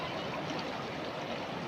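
Water flows steadily along a canal beside farm fields, a soft continuous rushing wash with no other sounds.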